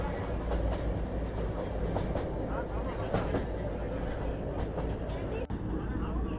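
A Darjeeling Himalayan Railway train runs close by, its rolling wheels and clattering carriages forming a steady rumbling clatter with rhythmic clicks throughout, under someone speaking.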